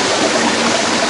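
Falling water feeding a hydraulic ram pump in Nepal, heard as a loud, steady, close-up rush of water with no pauses and no voices.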